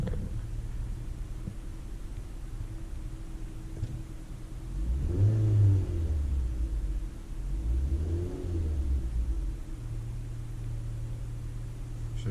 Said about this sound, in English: so she's still on cold start now because the idle is high